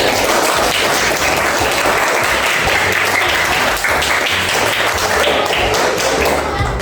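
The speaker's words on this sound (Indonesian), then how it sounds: "Beri tepuk tangan untuk kelompok 1." A classroom of primary school teacher trainees applauds a group that has just presented how to make meatballs, dense steady clapping filling the whole stretch at close range with no talk over it.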